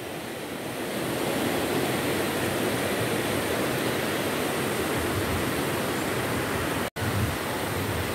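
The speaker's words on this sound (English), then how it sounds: "famous waterfall here in Finschafen, as you can see." Waterfall in Finschhafen, Papua New Guinea, a loud, steady roar of rushing water heard up close, continuous throughout with one brief dropout.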